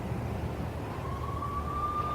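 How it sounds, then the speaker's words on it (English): A police siren wails in the Max Payne video game, a single rising tone that swells steadily over a low, constant rumble and grows louder toward the end. "I could hear the sirens. Their wail was a crescendo."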